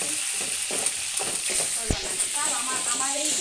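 Lotpoti, a beef offal curry, frying in a pan at an outdoor family picnic: steady bright sizzling hiss with stirring scrapes and one sharp clunk, close to the pan, with faint voices behind.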